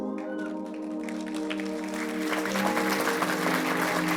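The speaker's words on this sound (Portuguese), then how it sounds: "O aplauso é um aplauso de vitória" Church congregation applauding after a baptism, a growing wash of clapping rising over a sustained organ or keyboard chord held underneath.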